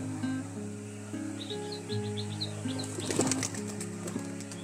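Pigeons coo softly in the background, then a sudden burst of wing flaps sounds as a bird takes off nearby.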